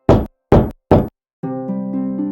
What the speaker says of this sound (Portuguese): De repente, alguém bateu na porta.